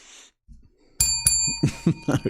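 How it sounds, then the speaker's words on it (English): A bright bell rings sharply once, its pure tones sustaining while a few soft thuds and knocks follow. "Gozo bell right there."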